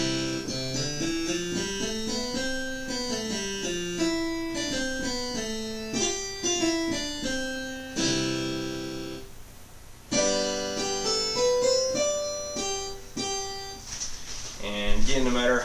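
A harpsichord voice on a digital piano plays a running melodic passage of crisp, evenly weighted notes, fairly soft and steady throughout, ending in a brighter flourish.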